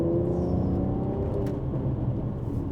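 A Mercedes C43 with a resonator delete drones steadily from inside the cabin, a close, continuous low rumble with a slight rising pitch as the engine pulls, no talking over it.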